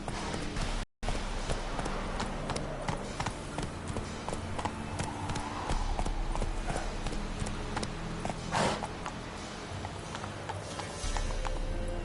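Horse hooves galloping in The Witcher 3, a fast steady clip-clop rhythm held up close for several seconds, with a brief dropout near the start.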